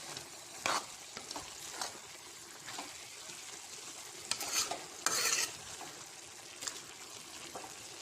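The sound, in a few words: stirring vegetables frying in pan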